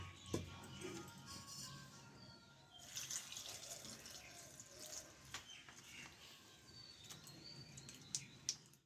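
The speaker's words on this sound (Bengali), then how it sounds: "এইবার এই কুলগুলোকে আমি ভালোভাবে পরিষ্কার জলে তিন থেকে চারবার মতো আমি ধুয়ে নেব" Jujube (kul) berries are washed in clean water, with faint splashing and trickling running throughout, occasional sharp clinks and bumps, and birds chirping in the background.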